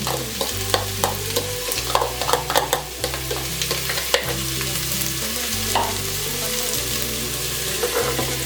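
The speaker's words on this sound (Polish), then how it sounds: "Smalec się roztopił, teraz wrzucę e, wszystkie warzywa" Vegetables and onion frying in melted lard in a pot, a loud close sizzle with scattered crackles and stirring scrapes running steadily throughout, no talk.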